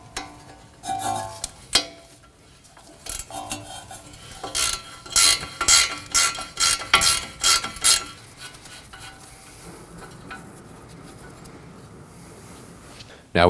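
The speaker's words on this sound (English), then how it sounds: "We'll remove the nut for the ball joint with a 19mm." Ratchet wrench with a 19mm socket working the ball joint nut on the front control arm of a 2016-2022 Honda Pilot, a run of quick metallic clicks and clanks in a garage, close and moderately loud, with a short pause midway.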